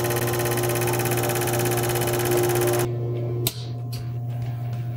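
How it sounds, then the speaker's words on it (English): A remanufactured gas fuel injector sprays on a test bench with a loud, rapid buzzing pulse over a steady machine hum, then cuts off, leaving a quieter hum with a couple of clicks. "that was spray pattern on a remanufactured injector"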